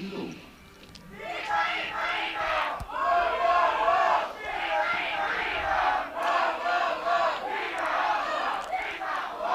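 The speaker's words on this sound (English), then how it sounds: "It's always awesome to hear all the cheering." A crowd cheers and shouts during youth compound archery finals at an outdoor European Youth Cup event in Sofia, with rising and falling chant-like vocal swells that continue steadily for several seconds.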